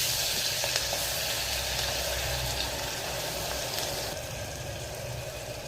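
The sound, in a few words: onion, ginger and garlic paste frying in oil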